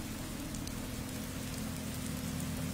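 Steady, moderately faint rain patters continuously in the video game Fallout 4, an even wash of falling drops with no voices over it.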